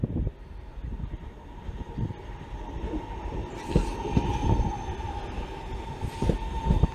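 A Class 323 electric train passes platform 9 at Manchester Piccadilly with a steady rumble of wheels and motor hum. Rhythmic clacks from rail joints and faint squeals rise over about seven seconds.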